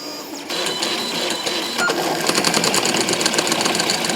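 Stepper motors on a 3D printer being pushed to maximum acceleration, close and loud, running alone as a steady whine broken by rapid rhythmic buzzing pulses that quicken toward the end.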